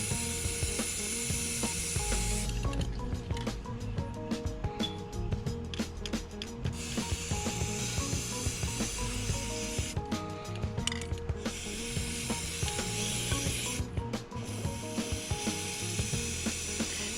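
Spray paint hissing lightly onto water for hydro dipping scooter parts, broadband hiss in several bursts with short pauses between, over clicking and rattling handling noise, close by.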